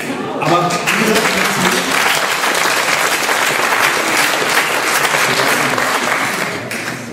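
Sustained audience applause fills a talk-show hall at a panel discussion, dense steady clapping from many hands lasting several seconds, loud and close, with a few voices mixed in.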